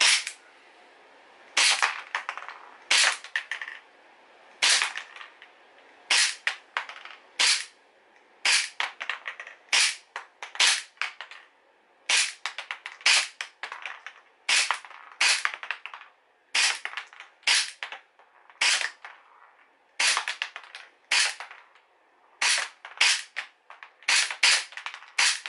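Airsoft gun shooting ordinary BBs through an Acetech Blaster tracer unit, sharp snapping shots fired in irregular bursts of two to four with short pauses between, close and loud over a quiet background.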